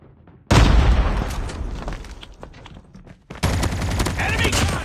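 A grenade blasting in the shooter M4 Black Gold Royale, a sudden loud explosion with a rumbling crackling tail, then a second heavy burst of gunfire or blast a few seconds later, with faint voices in the mix.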